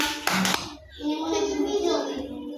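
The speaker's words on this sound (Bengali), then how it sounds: "ঠিক আছে, ওর জন্য একটা হাততালি দাও।" Children in a pre-primary classroom give a short burst of applause for a classmate after a rhyme recitation, with a teacher and children speaking around it.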